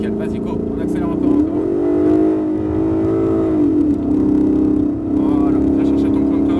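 Ford Mustang V8 on the Folembray track accelerating steadily, a loud continuous engine drone rising and falling in pitch with gear changes, heard from inside the car under an instructor's talk.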